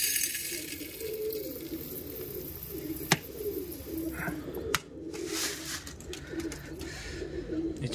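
Low, rolling coos from pet pigeons continue steadily as they are fed mixed grain including wheat, mung beans, chickpeas, maize and millet, broken by a couple of sharp clicks and a brief rustle.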